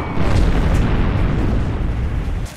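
A railgun artillery platform opening fire in a tabletop war game, rendered as a dense, loud rumbling blast effect that fills the whole stretch and then tails off near the end.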